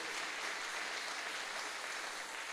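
Congregation applauding during a Sunday church service: steady, dense clapping from a crowd that fills the whole moment at even loudness, with no voices over it.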